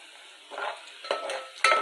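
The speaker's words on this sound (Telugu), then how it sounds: "ఆయిల్లో onion pieces and green chilli pieces ఏ విధంగా ఫ్రై అవుతున్నాయి వీవర్స్, చూస్తున్నారు కదా" Onion and green chilli pieces fry over a high flame in a large ladleful of oil, crackling in short sizzling bursts broken by scraping stirs of a spoon.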